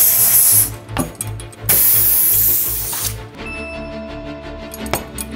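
Tubeless bicycle tyre sealant squirting out of a tyre in loud hissing, spraying bursts, a few strong sprays with short pauses, close by.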